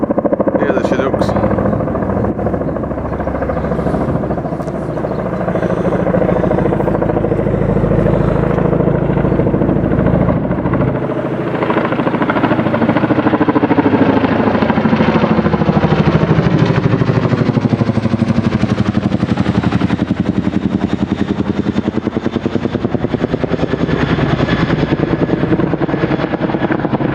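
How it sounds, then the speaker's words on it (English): Chinook twin-rotor helicopters pass overhead near a railway line in the Yorkshire Dales, a loud, continuous deep throbbing drone that swells and fades over about half a minute, with faint voices under it. "I think they're Chinooks. Double-bladed helicopters."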